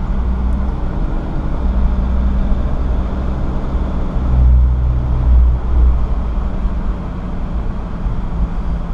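A 2003 Mercedes Sprinter conversion van with 26k miles drives along, giving a loud continuous low engine and road rumble with a slight swell midway and no speech.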